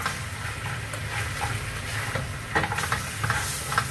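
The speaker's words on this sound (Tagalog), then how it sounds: "Halu-haluin lang guys, middle fire lang." Sliced onion and spring onion sizzle steadily in a pan over medium heat as a utensil stirs them, with soft scraping bursts over the continuous frying hiss.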